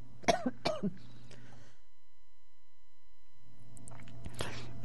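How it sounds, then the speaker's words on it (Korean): A short burst of harsh coughs and throat clearing from inhaled capsaicin sounds up close, then a pause of near silence before more rough coughing returns at the end. "제가 캡사이신을 좀 들이마셨더니 수시로 그냥 기침이 튀어나옵니다"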